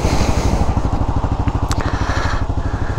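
A 2022 Kawasaki KLR 650 single-cylinder motorcycle running with Dunlop Trailmax Mission tires, its steady low thumping engine pulse close and continuous throughout, with a brief clatter partway through.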